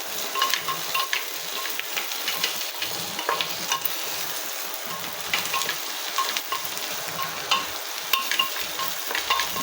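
Garlic sizzles in hot oil in a pan while a spoon stirs and scrapes steadily, a close, continuous crackle with light clinks and no talking.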